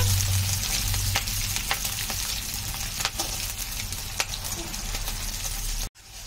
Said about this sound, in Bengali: বিনসটা নেড়ে চেড়ে একটু ভাজা ভাজা মতো করে নেব।